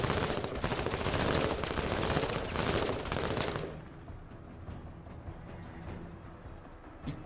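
Video game gunfire aimed at a bunker roars as dense, continuous fire for a few seconds, then drops to a quieter, scattered rattle.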